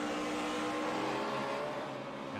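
NASCAR Cup race car running off the track through the grass during a 2010 race, heard as a steady, loud engine roar that fades slightly toward the end, with no voices.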